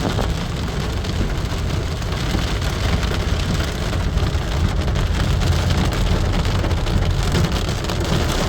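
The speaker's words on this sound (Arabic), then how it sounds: "مطر مطر مطر، كل مطر عن شمس." Heavy rain falls steadily in Mecca, a dense, loud and unbroken wash of drops on surfaces with no voices.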